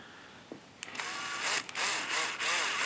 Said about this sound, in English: It's good to pre-drill these.